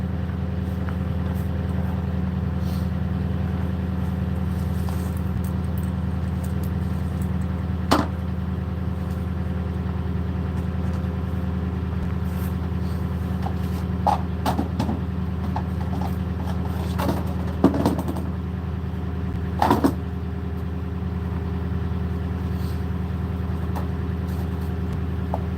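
A truck engine idles in a steady, low droning rumble that holds throughout, with occasional faint clicks and knocks on top and no talking.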